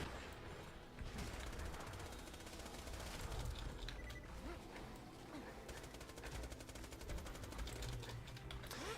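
A submachine gun firing in the video game Borderlands, long rapid bursts of close automatic shots layered over steady game background noise, with a voice talking at moments.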